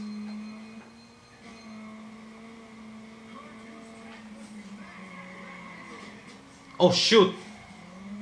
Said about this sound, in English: Lost control after hitting a tire barrier there